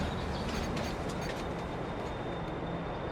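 Train rolling in the farming video game Farming Simulator 22, a steady broadband rumble and rattle of rail cars that holds at an even, fairly loud level throughout with no talk over it.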